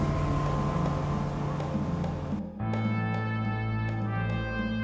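A boat motor on a river in the Yukon drones steadily and loudly, then shifts to a lower, smoother tone after a brief dip, continuing close and constant.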